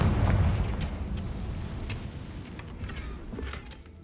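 A Confringo blast spell cast in a wizard video game: a loud, low boom opening the clip, then a rumbling decay that fades over several seconds, with faint crackles and no voices.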